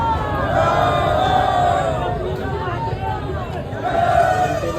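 A large crowd gathers for a palkhi procession, a dense, continuous babble of many voices with a few louder calls rising near and far throughout.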